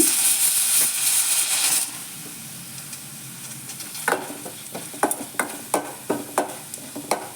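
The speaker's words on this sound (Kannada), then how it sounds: "ಎಲ್ಲ ಮಿಕ್ಸ್ ಮಾಡೋಣ ಈಗ ಕೊತ್ತಂಬರಿ ಕೂಡ ಹಾಕ್ತಾ ಇದ್ದೀನಿ ಇದಕ್ಕೆ" A sweet pumpkin dish's tempering of curry leaves and coriander sizzles loudly in a pan at first, then settles into a quieter hiss as a spoon stirs and scrapes in a steady run of sharp clinks.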